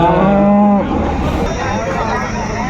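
A cow gives one loud, close moo at a busy cattle market in Palamaner. Low crowd noise continues after the call fades.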